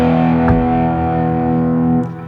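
An electric guitar with a Tonerider Alnico 2 Classic pickup plays through a Marshall amp and a Leslie, a loud, sustained distorted chord that rings steadily with a rotary swirl, then is cut off near the end.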